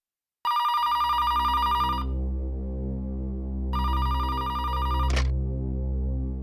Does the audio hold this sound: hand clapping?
no